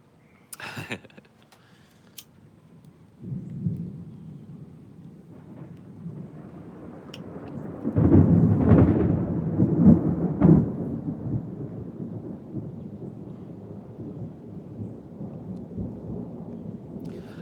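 Thunder from a storm near the ocean rolls in low and heavy, with a soft early rumble that swells into a loud, drawn-out peak before slowly fading into a lingering grumble.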